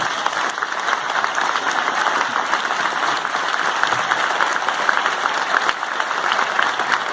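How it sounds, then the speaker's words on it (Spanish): An audience claps for Pedro after a talk in Mar del Plata, steady sustained applause from a sizable crowd filling the room for several seconds, with no cheering or speech over it. "un aplauso"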